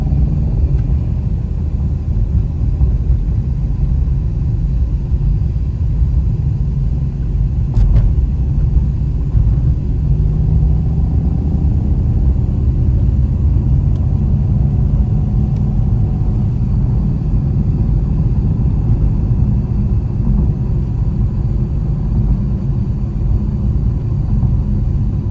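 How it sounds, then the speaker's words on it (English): Steady low rumble of a 2024 Mercedes-AMG GT63 being driven in race mode, heard as continuous engine and road drone from inside the car, fairly loud and even throughout with no talking. "Driving the AMG GT63, and as a AMG drives, it is soft when needed to be, yet harsh when needed to, as you can see here in race mode."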